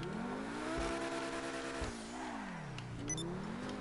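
Sports car engine in the GTA racing game revving hard with its turbo spooling, the engine note rising and falling steadily over a few seconds with brief tire sounds, loud and continuous with no talk.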